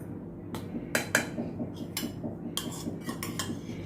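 A spoon clinks and scrapes against a bowl while dhokla batter is mixed with turmeric, giving irregular sharp metallic taps over a steady low background hum.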